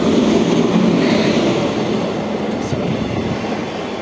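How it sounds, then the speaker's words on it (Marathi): The Konark Express pulls into Pithapuram station, a loud, steady rumble of rolling train wagons heard up close on the platform, filling the whole stretch without pause. "आपली पिठापूरवरून विशाखापट्टणमला जाण्याची ट्रेन आलेली आहे पिठापुरमला."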